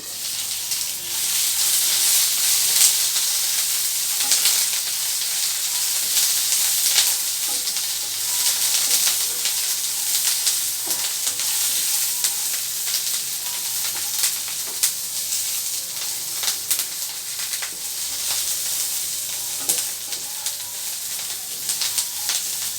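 Curry leaves, peanuts and green chillies fry in hot oil for a tomato and ivy gourd chutney, a loud, continuous close-up sizzle and hiss with occasional crackles and stirring scrapes, no talking.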